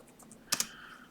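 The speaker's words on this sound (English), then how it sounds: "Trying to type properly. I don't like the keyboard on this laptop" A laptop keyboard is typed on, with two sharp, close key clicks in quick succession over a quiet background.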